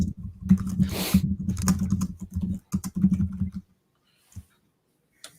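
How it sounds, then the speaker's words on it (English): Fast, heavy typing on a computer keyboard rattles on in dense bursts for a few seconds, then stops, leaving a couple of faint stray clicks. The sound is close, with no speech. "if you're going to be typing like super furiously, just mute yourself, please."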